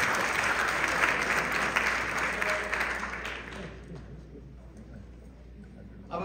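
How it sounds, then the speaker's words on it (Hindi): Loud applause from an audience greeting poet Shambhu Shikhar onto the stage at a UP Association gathering in Chicago, dense sustained clapping that thins and fades toward the end. "बड़े जोरदार तालियों से"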